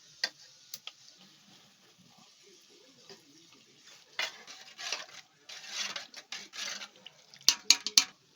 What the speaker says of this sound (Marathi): आता मसाला टाकीत आहे हा कांदा मसाला मिरची पावडर जिरे गरम मसाला हळद पावडर